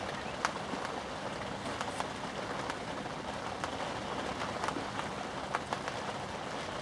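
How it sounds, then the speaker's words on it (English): Heavy rain pours down at an outdoor carp fishery, a dense continuous hiss with scattered louder drop impacts and taps nearby, no talking over it. "It's just a shame that it's pouring down the rain, as you can see."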